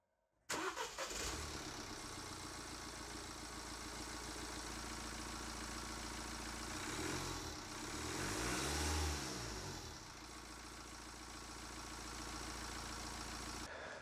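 A 1.6-litre diesel engine in a Mini One cranks and catches abruptly, then settles into a steady, loud idle with a brief rev partway through; no talking.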